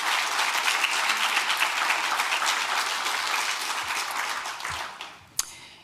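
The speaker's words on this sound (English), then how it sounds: "So let's go ahead and give her and her team a round of applause." Sustained audience applause fills a hall at an adult education summit, steady and dense for several seconds, then thins and fades out near the end with a sharp click.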